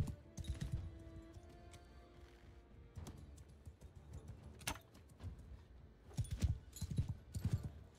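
Horse hooves clip-clop in Mount and Blade II: Bannerlord, with clustered galloping beats rising near the start and again toward the end, joined by sharp in-game impacts and a steady low rumble, with no talking.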